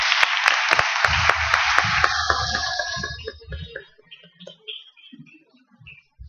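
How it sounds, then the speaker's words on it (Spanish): Audience applause at a conference panel closing, a broad burst of clapping with a few sharp claps standing out, loud at first and then thinning into scattered claps before fading away. "Un aplauso, por favor."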